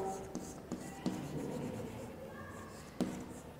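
A pen scratches steadily across paper as a letter is written by hand, close and continuous, with a few sharp taps and pauses and faint speech in the background.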